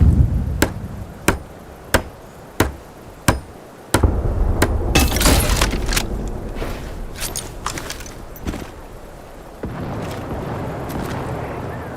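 In the Vietnam War shooter game Hell Let Loose Vietnam, a hammer strikes while an anti-aircraft gun is built: five sharp, evenly spaced metallic knocks, then a burst of clattering construction and scattered impacts over a rumbling background.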